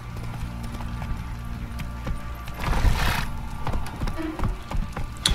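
A horse's hooves clip-clop at a trot in The Witcher 3: Wild Hunt video game, a steady close rhythm over low game ambience, with a brief whoosh and a whinny mixed in.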